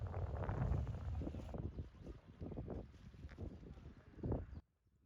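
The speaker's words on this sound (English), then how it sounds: "has a canal with a boat motoring past" A motorboat on a canal in the Netherlands drones past nearby with wind buffeting the microphone, the engine noise swelling and fading before cutting off near the end.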